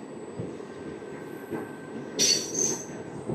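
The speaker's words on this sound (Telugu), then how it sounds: "ఇక్కడ కూడా మన స్టాప్ లేదు, కానీ స్లో చేసేసాడు" The Simhadri Express rolls slowly through Ravikampadu station with a low steady rumble of wheels on track, then a sharp high wheel squeal rises near the end and lingers faintly.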